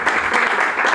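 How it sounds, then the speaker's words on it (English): An audience claps in a brief, close burst of steady applause at a show. "Let's give her a round of applause."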